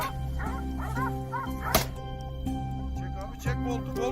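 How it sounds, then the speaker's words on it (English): Hunting dogs barking and yelping during a wild boar hunt, several sharp bursts over a steady low engine-like drone, with speech mixed in. "The air suddenly filled with the sound of barking dogs and the wild boar's screeches"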